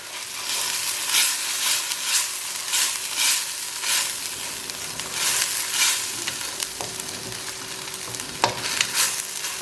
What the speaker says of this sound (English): So we're just going to stir these around for a bit and let them cook together.